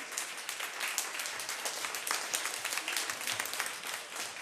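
Steady applause from an audience for a group of children from Colegio Peñalba, dense continuous clapping at moderate distance with no talk over it.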